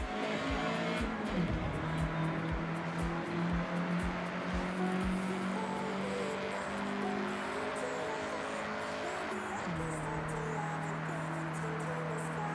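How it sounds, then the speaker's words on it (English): A Honda CRX accelerates in the Forza Horizon 6 video game, its engine droning and rising steadily in pitch through gear changes, loud and continuous, with faint tire noise. "get the CRX up to speed"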